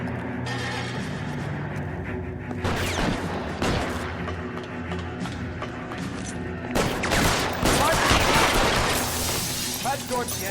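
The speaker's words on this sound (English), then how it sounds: "Who's he shooting at?" Gunfire in the video game L.A. Noire, with bursts of shots and sharp impacts over a busy game soundscape, growing louder and denser toward the end while voices talk throughout.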